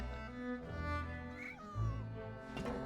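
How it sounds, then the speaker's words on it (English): A random orange cat in the video game Genshin Impact lets out a soft, drawn-out meow partway through, heard over a steady backdrop of tonal game music. "there's this random orange cat."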